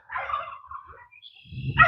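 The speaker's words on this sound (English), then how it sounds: "I hear the dogs." A dog gives a short, high yelping bark followed by fainter whines, then another sharp bark near the end.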